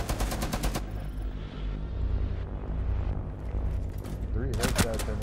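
Rapid gunfire bursts from a tactical video game shooter, loud dense volleys at the start and again near the end, with sustained game noise and effects in between.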